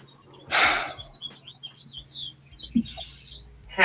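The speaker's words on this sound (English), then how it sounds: "Happy little bird." A small songbird chirps and sings in short, bright bursts of tweets scattered across a few seconds, near and fairly clear, with soft breathy noises in between and no talking.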